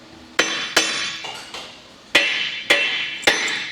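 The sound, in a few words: hammer tapping on metal part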